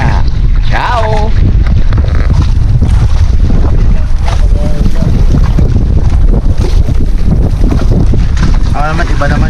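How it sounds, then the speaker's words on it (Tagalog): Strong wind roars and buffets the microphone steadily while fishing from a boat on the water, loud and continuous, with brief voices mixed in. "lumakas na yung hangin."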